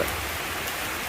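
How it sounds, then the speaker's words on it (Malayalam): Steady, even patter of rain falling nearby, a continuous wash of drops with no voices. "മഴ വീണ്ടും തുടങ്ങി."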